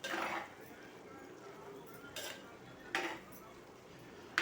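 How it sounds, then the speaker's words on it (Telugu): A spoon clinks and scrapes in a pot of bottle gourd curry, followed by sharp metal knocks as a lid is set on, faint and close amid kitchen background. "ఇప్పుడు కలిపేసి మూత పెట్టేస్తాను."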